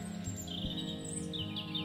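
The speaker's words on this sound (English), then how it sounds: "The sun is shining and the birds are singing their beautiful song." Birds sing and chirp softly in a meadow, with faint high calls over a low steady background.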